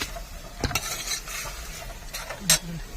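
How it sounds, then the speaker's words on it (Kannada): Pea sambar being stirred in a pan, with a spoon scraping and a few sharp clinks over a soft, steady sizzle of frying, fairly close and with no voices. "ಸಾಂಬಾರು ಮಾಡ್ತಾ ಇದ್ದಾನೆ."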